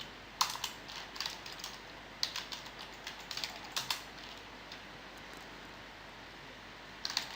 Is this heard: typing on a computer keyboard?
yes